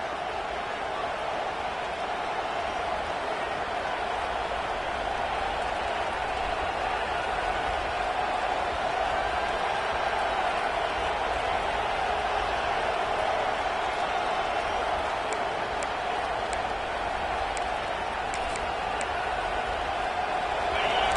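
Home crowd noise at a Clemson versus Miami college football game, a steady loud wash of stadium cheering and roar that sustains evenly throughout, with no clear peaks.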